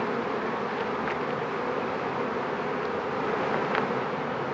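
Honeybees hum in a dense, steady drone around an open hive during a 2025 beehive inspection, close and continuous, with a few individual bees buzzing past.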